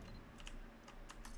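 Computer keyboard keys pressed in a quick, faint run of clicks during a Mabinogi game stream, heard alone with no talking.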